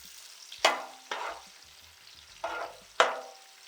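Onions hit hot oil in a pan for chicken gongura, sizzling in four sharp bursts as they are stirred, close and fairly quiet, with no talk.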